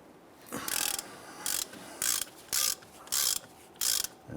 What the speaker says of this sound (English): Now we just happen to switch over to a 1/2 inch drive.